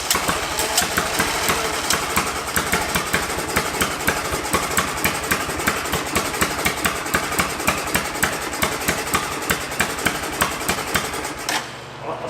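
An old Honda three-wheeler engine with a suspected plugged air intake runs at a steady, loud, rapid idle with a regular thumping beat, then abruptly sputters and cuts out near the end.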